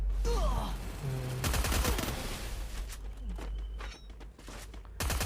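Automatic gunfire in the mobile battle game Free Fire, loud bursts of rapid shots broken by short gaps, with footsteps, game sound effects and small vocal noises between the volleys.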